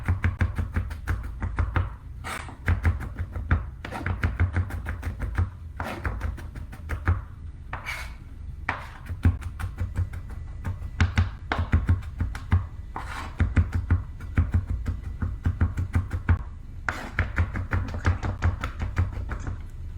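Garlic cloves are minced with a knife on a board, producing rapid, steady chopping taps in dense bursts with brief pauses, close and fairly loud, with no speech.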